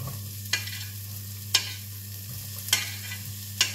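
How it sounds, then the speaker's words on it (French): Steady sizzling of onions frying in hot oil on an induction hob, with a few sharp clatters of stirring spaced irregularly over the hiss. "je peux tout de suite faire revenir mes oignons"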